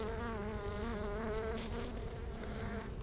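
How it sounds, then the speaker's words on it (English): Honey bees buzz steadily and loudly throughout a hive inspection, a dense continuous drone of many wings close by with no talk. "So I think I see more bees than before."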